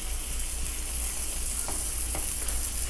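Beer cheese sauce being stirred in a hot pan, a close, steady sizzle with soft scraping and stirring noises throughout.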